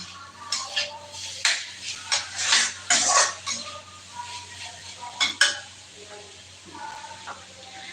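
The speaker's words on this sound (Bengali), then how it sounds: "ভাজিটা ওই চুলায় বসাইছি" Vegetable bhaji cooking slowly on a home stove, with soft sizzling under repeated stirring scrapes and clinks of a spatula against the pan, in bursts that rise and fade.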